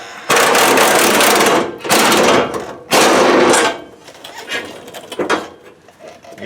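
Loud bursts of an impact wrench rattling fuel tank strap bolts loose on a 1976 Chevrolet Malibu, three long hammering runs with short pauses, then quieter clinks and handling noises.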